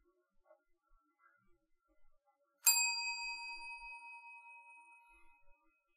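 A single bright ding from a reception desk service bell rings out sharply and decays slowly, preceded by faint small taps in near silence.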